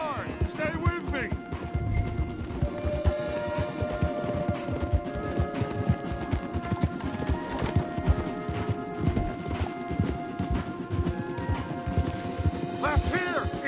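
Rhythmic clip-clop of several horses galloping hard in Red Dead Redemption 2, loud and close, with occasional crashes and short shouts layered over the pounding hooves.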